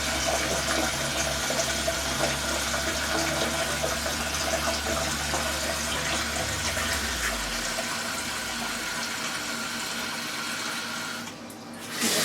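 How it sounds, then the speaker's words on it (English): Water rushing steadily into a Kohler toilet tank as it refills after a canister flush valve gasket replacement, a loud continuous hiss and gurgle with a low rumble that fades out near the end as the fill shuts off. "The toilet is filling back up again."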